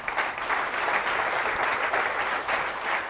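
A church congregation claps during a Spanish-language worship service, dense sustained applause that holds steady for several seconds with no voices over it.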